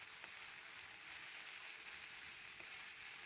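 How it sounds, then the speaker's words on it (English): Garlic and ginger frying on low heat give a steady, soft sizzle with a couple of faint stirring taps, alone and quiet throughout. "I added garlic and ginger, stirred well"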